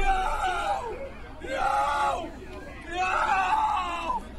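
A voice imitates wild, crazed screaming in three drawn-out bursts separated by short pauses, loud and close.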